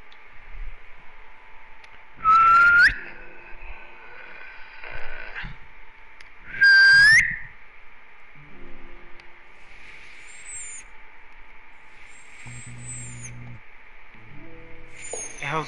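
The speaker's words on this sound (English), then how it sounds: "The hell's whistling?" Thin, high whistling tones rise in short glides during a PS4 gaming session, with two loud bursts and quieter chirps over a steady background hum.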